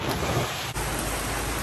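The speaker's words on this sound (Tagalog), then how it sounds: "Ah, pakalakas ng ulan." Heavy rain pours steadily as a dense, continuous hiss close by, with no talk, staying loud and even throughout.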